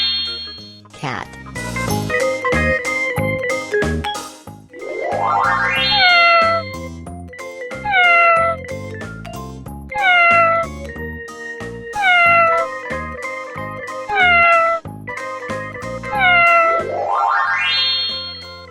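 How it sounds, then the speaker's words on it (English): Repeated cat meows ring out clearly in a cartoonish farm-animal learning sequence for toddlers, about half a dozen rising-and-falling calls spaced evenly, loud and close, over a bright musical backing with chimes and a short spoken word at the start. "Cat."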